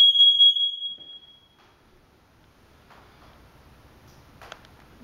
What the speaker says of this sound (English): Smoke detectors definitely work.